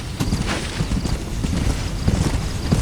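Horse hooves clip-clop at a steady walking rhythm in Red Dead Redemption, close and continuous over a soft wind-like hiss, with no talking.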